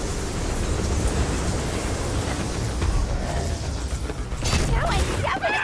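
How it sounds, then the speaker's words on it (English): A train in the video game Ratchet & Clank: Rift Apart rumbles steadily as it pulls away, a dense mechanical roar with faint rattles and creaks and a few brief metallic squeals near the end. "The train's pulling away."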